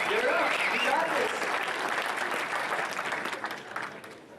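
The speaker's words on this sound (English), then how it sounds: "Let's give him a round of applause." An audience at a hackathon opening ceremony breaks into a round of applause, loud and dense at first with cheers, then gradually thinning and fading out.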